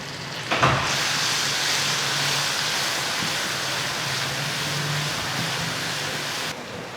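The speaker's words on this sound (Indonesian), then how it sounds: "Kita tumis deh bumbunya ke sini." Coarse-ground spice paste for seblak cuanki hits a hot pan with a sudden loud sizzle that holds as a steady, close, hissing crackle for several seconds before cutting off.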